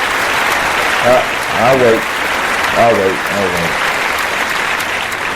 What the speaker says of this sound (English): Oh, I'm sorry, y'all clapping for that.